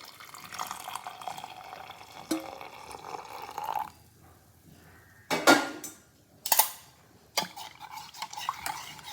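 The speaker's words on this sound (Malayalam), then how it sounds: "ഇതാ ഈ ഒരു ഗ്ലാസ് ചായ അതിനകത്തേക്ക് എങ്ങനെ അങ്ങോട്ട് ഒഴിക്കാം" Tea is poured into a glass in a home kitchen, a quiet liquid stream followed by several sharp clinks and knocks of glass and utensils, with near silence between.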